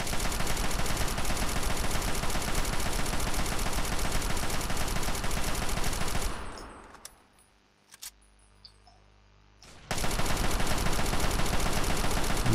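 Dense, relentless automatic gunfire from the Fallout 3 video game roars loud and continuous, breaks off into near quiet with a few isolated shots, then resumes at full intensity.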